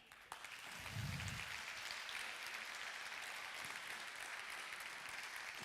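Audience applause from a cultural heritage event swells into a steady, moderately distant clatter of many hands, sustained evenly after a brief rise.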